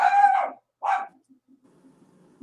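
A dog gives two short, close barks in quick succession, then falls quiet apart from faint background noise.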